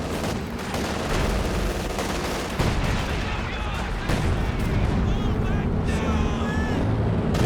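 Werfer rocket strike in Company of Heroes 2, a continuous barrage of blasts and crackling gunfire mixed with rumbling explosions, loud and dense throughout, with a voice speaking over it.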